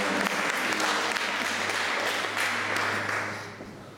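A church congregation applauds and cheers loudly during a Catholic Magnificat service, with voices raised under the clapping and a low sustained hum. The ovation fades toward the end.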